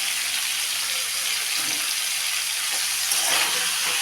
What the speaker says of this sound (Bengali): এখন ভাজবো ফুলকপিটা